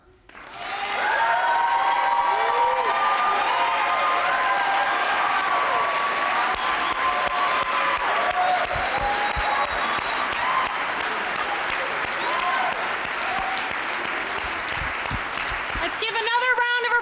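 Sustained audience applause following a poem at a reparations hearing, loud and steady for most of the stretch, with crowd noise and scattered voices mixed in.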